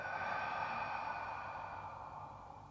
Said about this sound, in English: I breathe out